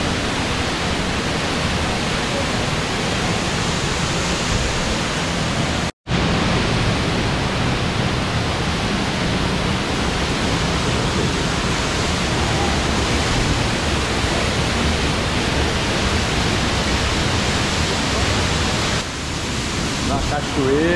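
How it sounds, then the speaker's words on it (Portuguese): Steady, dense roar of rushing falling water filling the whole clip, loud and constant, with one brief cut near the start. "Cachoeira, velho. Natureza."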